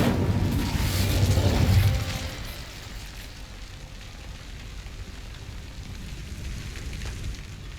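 An Incendio fire spell bursts in Hogwarts Legacy, a loud whooshing flame blast in the first two seconds that fades into a low crackling rumble.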